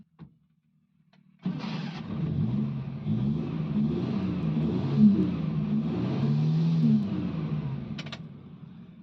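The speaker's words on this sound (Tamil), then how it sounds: "வண்டி உங்களுக்கு ஸ்டார்ட் பண்ணி காமிக்கிறேன்" After a moment of quiet, an Omni van engine cranks, catches, and keeps running with a steady low rumble close by.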